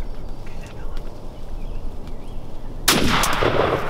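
A single loud shotgun blast rings out during a turkey hunt, sudden and sharp after quiet outdoor ambience with faint bird sounds, its echo trailing off.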